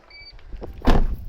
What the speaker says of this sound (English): I just opened the back door